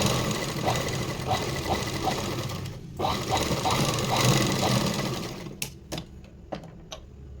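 A domestic sewing machine stitches seams along both sides of cloth while a puff princess-cut garment is made, running in a steady rapid whir with short pauses and a few separate clicks near the end.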